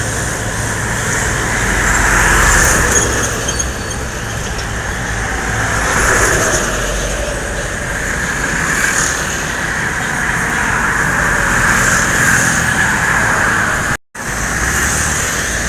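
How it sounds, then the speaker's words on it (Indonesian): A bus drives past near a toll gate on the edge of Palembang, its engine a steady, fairly loud road roar that swells and fades over continuous traffic noise, with no talk. "Ada unit bus lagi ya,"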